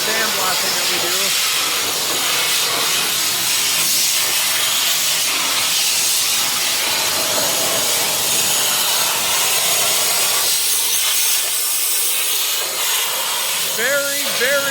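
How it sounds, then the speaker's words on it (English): Sandblasting on a dairy farm during a TMR feeding operation, a loud, continuous hissing blast filling the space close by, with someone talking faintly beneath it. "this is part of the sandblasting that we do."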